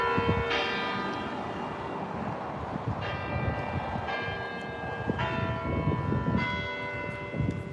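Church bells peal from a bell tower near the US Capitol, with several loud, ringing strikes layered over a busy outdoor wash of city noise.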